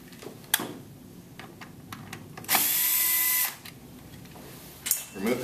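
A power drill runs in one steady, fairly loud burst of about a second while backing out the single screw on the pressure switch of an LG front-load washer, with faint clicks and handling noise before and after.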